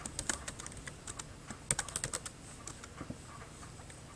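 Quick keystrokes tapped on a computer keyboard, in short irregular bursts of light clicks with brief pauses between them, close and fairly quiet.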